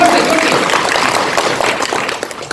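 Dense, sustained applause from an audience at a sales training seminar, a wash of many hands clapping at once that fills the room and holds steady before thinning slightly at the end.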